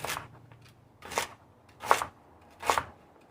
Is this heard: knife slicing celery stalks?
yes